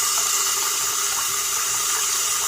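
Water pours steadily into the bowl of a leaky travel trailer toilet, a continuous bright hiss and splash, close and unbroken, with no talking.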